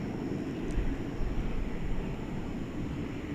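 A Frontier Airbus A321neo jet at DFW Airport produces a steady broadband roar of jet engine noise that holds constant at moderate distance, with no talking.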